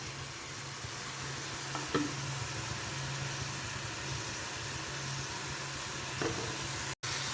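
Masala sautéing in a pan while preparing fish curry, a steady close sizzle and hiss with a couple of faint stirring taps, continuous and alone.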